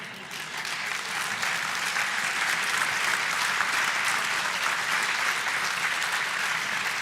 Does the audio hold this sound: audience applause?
yes